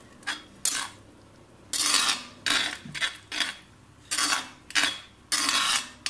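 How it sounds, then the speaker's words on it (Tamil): A spoon stirs peas gravy in a pan, making quiet, close scraping and clinking strokes in irregular bursts separated by short pauses. "விட்டுட்டு இப்போ அதை நல்லா வந்து மிக்ஸ் பண்ணிக்கலாம்."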